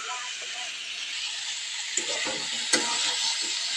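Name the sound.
vegetable fry cooking in a pan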